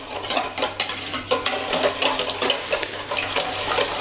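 Eggs, yolks and seasoning for a quiche filling are whisked in a bowl, a fast, steady clatter and slosh that carries on without pause, close and fairly loud.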